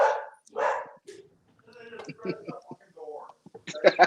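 Dogs bark in a few short, sharp bursts close by, mixed in with people talking.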